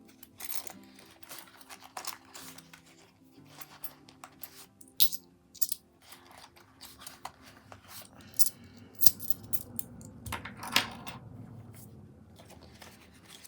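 Loose coins are handled from a cash envelope, giving scattered close metallic clinks and small jingles among light paper rustling, with sharper clusters of chinking at irregular moments.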